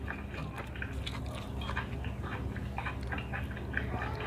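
Crunchy, wet chewing and biting of live crab, with irregular crackling bites repeating close-up over a low background hum.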